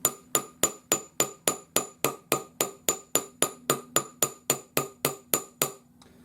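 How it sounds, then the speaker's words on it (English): A sharp-edged French jeweler's hammer striking metal resting on a wooden bench block, about twenty crisp evenly spaced taps with ringing attacks, close and alone, ending with a brief quiet. "I'm going to take my French jeweler's hammer, which has a fairly sharp edge,"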